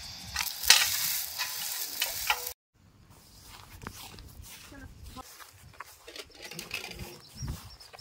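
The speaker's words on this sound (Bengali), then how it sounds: "ঘিয়ে ভাজা মেথি পরোটা" Methi paratha fries in ghee with a loud, hissing sizzle for a couple of seconds, then a quieter stretch follows with soft kitchen clatter, faint bird calls and muffled voices nearby.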